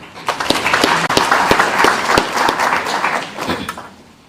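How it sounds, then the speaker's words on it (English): A seated audience claps in a short burst of fairly loud, close applause, individual hand claps and thumps standing out, tapering off after about four seconds. "Can we give them a good clap?"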